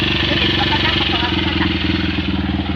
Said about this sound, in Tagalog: Sakay tayo ng motor.